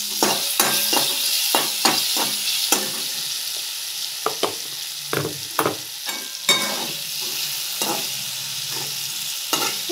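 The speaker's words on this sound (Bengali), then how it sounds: "এই টমেটোটা একটু নাড়াচাড়া করে নিচ্ছি," Tomato is stirred in a frying pan of sizzling oil for an egg curry. A spatula scrapes and clacks in quick, repeated strokes over a constant close hiss.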